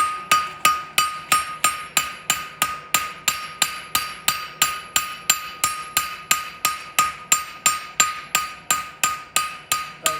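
A hammer strikes hot metal on an anvil in a fast, steady rhythm, about three ringing blows per second, loud and close, each hit leaving a short metallic ring, while forging a horseshoe.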